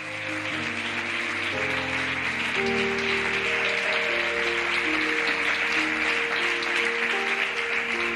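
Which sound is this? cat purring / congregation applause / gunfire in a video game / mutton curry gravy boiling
congregation applause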